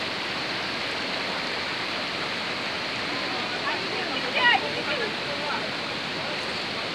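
Broadband rushing water from a flash flood (galodo) at Situjuah, a steady, dense roar that runs the whole time with a brief louder surge midway, and no clear talk over it.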